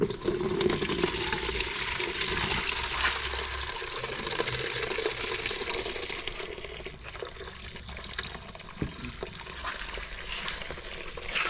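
Coolant water drains steadily out of a Ford Fiesta engine that is misfiring on one cylinder and overheating, a continuous rushing, gurgling flow close by that persists throughout with no talking.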